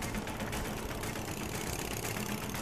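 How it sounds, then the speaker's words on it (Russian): Kawasaki motorcycle engine, a 210 kg bike at a stunt record event, running steadily with a dense, rough mechanical drone throughout, loud and continuous with no pauses. "по ней проедет мотоцикл. Мотоцикл Кавасаки."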